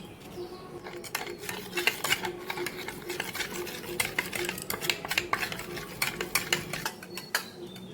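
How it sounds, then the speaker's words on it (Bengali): A spoon stirs agar agar powder into milk in a pot for mango pudding, making steady, close clinks and scrapes against the metal that repeat in a quick, uneven rhythm throughout. "দুধের মধ্যে আগার আগার পাউডার মিশিয়ে দিচ্ছি"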